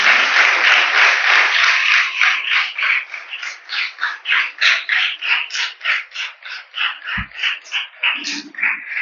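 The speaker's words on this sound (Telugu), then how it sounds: "అందరూ కూడా చప్పట్లు కొట్టండి గట్టిగా." Loud applause from a church congregation at a Sunday Mass, a dense burst of clapping that settles into a rhythmic, pulsing beat and carries on for several seconds.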